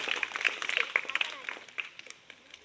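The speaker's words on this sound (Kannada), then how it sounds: "ಜೋರದ ಕ್ಲಾಪ್ಸ್ ಹಾಕ್ರಿ" Students applaud loudly at a school quiz program in a classroom, a dense burst of many hands clapping that gradually thins out, with voices mixed in.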